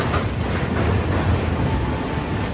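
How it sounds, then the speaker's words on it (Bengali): A passenger train from Howrah pulling into Kanthi station, a steady broad rumble of rolling stock holding close and fairly loud throughout, with no clear separate clacks or voices. "ঘড়িতে সময় 9:52 ট্রেন কিন্তু এসে পৌঁছালো কাঁথিতে"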